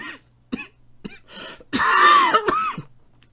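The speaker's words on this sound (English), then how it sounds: "Sorry for my cough." A man at home during a chess commentary coughs and clears his throat in a series of short, harsh bursts, ending in a longer rasping clear, close to the microphone with no talk.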